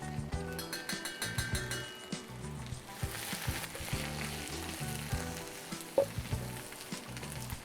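Onion, shallots, celery and carrots sizzle in butter in a hot pan, a steady crackling hiss broken by occasional utensil clinks and stirring clatter.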